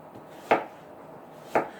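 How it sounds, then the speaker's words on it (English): Two sharp knife chops through onions on a cutting board, about a second apart, each a crisp close thunk over a quiet kitchen background with no talking. "So we're just going to start cutting our onions."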